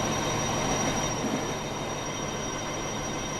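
A game train runs steadily along the track, a loud continuous rumble with a high, sustained wheel squeal over it and no voices.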